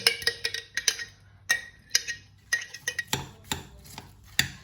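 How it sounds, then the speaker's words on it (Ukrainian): Onion, cheese and mayonnaise being stirred together in a bowl, an irregular series of sharp clicks and taps as the utensil strikes the bowl, close and fairly loud with brief quiet gaps between strokes. "І добре все перемішаю цибульку із сиром."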